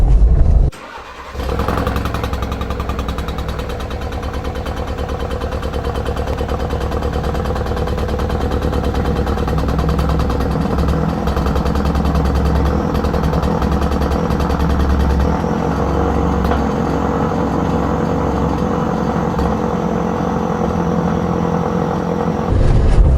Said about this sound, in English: on Monday morning, the car sounded like this